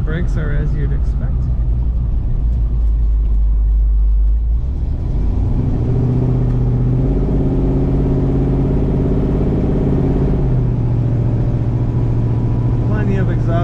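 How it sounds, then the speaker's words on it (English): A 1969 Chevrolet Chevelle SS tribute cruises at around 55 mph, its engine and exhaust giving a continuous deep rumbling drone that settles into a steadier, fuller tone partway through and stays close and loud. "Plenty of exhaust note, which is good."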